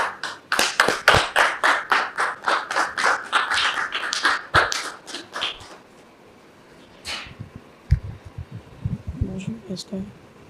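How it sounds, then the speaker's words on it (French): An audience applauds a guest being welcomed on stage, with loud, close, rhythmic claps for about six seconds that then thin out into scattered sounds and voices. "Recevons Dame Regina Bierou sous vos applaudissements"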